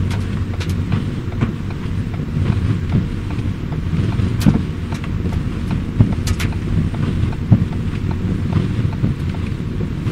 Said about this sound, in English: We are now in the autonomous mode. So we're gonna take the right turn here.